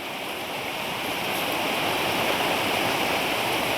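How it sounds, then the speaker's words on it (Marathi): Rainwater rushing after a sudden heavy downpour, a steady broad wash of flowing water that swells slightly, close and continuous with no voices. "हे बघा कसं पाणी वाहत आहे."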